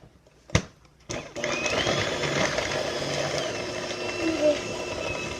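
A couple of sharp clicks, then an electric mixer starts up and whirs steadily, its motor pitch wavering slightly as it beats raspberry brownie batter.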